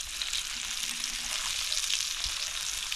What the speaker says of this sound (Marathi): एकदम शॅलो फ्राय करून ठेवतो आहे.